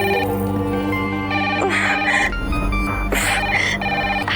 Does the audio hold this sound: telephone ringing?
yes